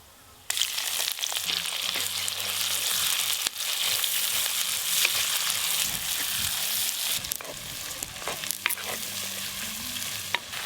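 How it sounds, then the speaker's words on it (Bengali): Chopped onions dropped into hot mustard oil with cumin seeds and bay leaves for a fenugreek chicken curry, a loud steady sizzle with stirring scrapes and faint clinks running throughout, close up. "এবার পেঁয়াজ কুচি দিয়ে দেব।"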